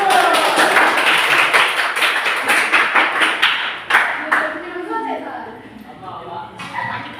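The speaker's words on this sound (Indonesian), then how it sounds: "Beri tepuk tangan dulu." A room full of people applauds a group's presentation, dense clapping for about four seconds that tapers off into scattered claps and voices.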